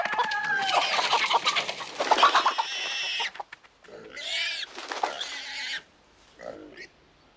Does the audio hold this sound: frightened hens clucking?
yes